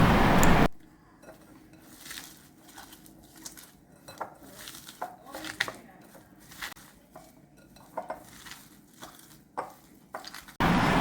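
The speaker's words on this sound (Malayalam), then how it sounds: "ഇതിലേക്ക് ആവശ്യത്തിന് ഉപ്പിട്ട് കൊടുത്തിട്ട് ഇത് നമുക്കൊന്ന് നന്നായിട്ട് തിരുമ്മി യോജിപ്പിച്ചെടുക്കാം" Sliced onion rubbed and mixed with salt by hand in a bowl, close irregular squishing and soft clinks against the bowl, with brief louder bursts of noise at the very start and end.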